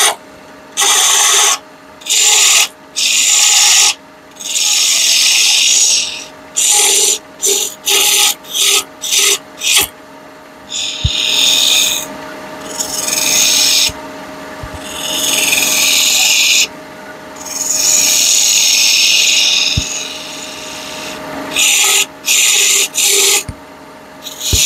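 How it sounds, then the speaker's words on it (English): Woodturning tool making a swooping cut into spinning wood on a lathe, a series of loud close rasping cuts in short bursts and then longer sweeps, separated by brief pauses, no voices. "I'm going to do a little swooping cut here"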